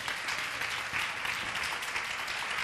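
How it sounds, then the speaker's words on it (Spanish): A church congregation applauds together in a continuous wash of clapping, fairly faint and distant, sustained evenly throughout. "¿Cuánto le da un aplauso al Señor por eso?"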